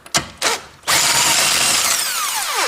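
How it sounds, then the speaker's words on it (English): A power tool removes the wheel bolts from a car that has a stuck brake: two short mechanical bursts, then a sustained loud whirring run that winds down near the end, heard close up. "now I am removing these wheel bolts"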